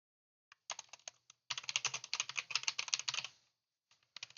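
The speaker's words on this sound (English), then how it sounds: "if I can actually type properly" Bursts of fast, crisp keystrokes on a computer keyboard, close and clear, typed in quick runs with short pauses and a few isolated taps at the start and end.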